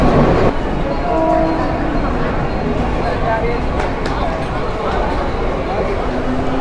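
A train rumbles steadily and loudly at a railway station in Mumbai, its roar filling the whole stretch, with voices talking over it.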